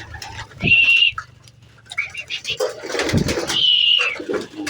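Racing homer pigeons cooing while being fed, close soft cooing calls with a couple of clear rising whistle-like notes, plus light rustling and shuffling.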